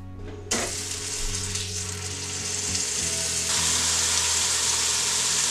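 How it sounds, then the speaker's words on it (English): Seasoned, smoked round roast steaks hit a frying pan of hot oil with a sudden burst of loud sizzling that then crackles steadily and intensifies slightly, with no talking. "sear them in a frying pan of hot oil"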